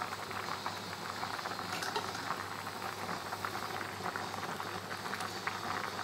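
Rice bubbles at a rolling boil in a pot, a close, steady patter of bursting bubbles that holds even throughout with no voices.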